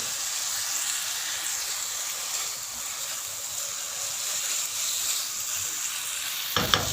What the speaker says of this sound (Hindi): अब इसमें सोया सॉस, चिली सॉस और सिरका डालकर अच्छी तरह मिक्स कर लेते हैं।